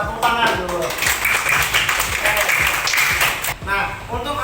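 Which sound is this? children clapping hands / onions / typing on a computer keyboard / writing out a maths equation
children clapping hands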